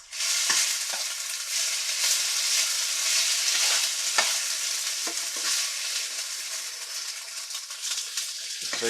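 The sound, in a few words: cubed pork frying and browning in a pan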